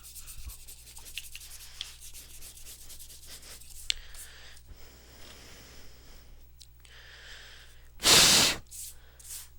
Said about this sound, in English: Eraser. Don't erase it too much.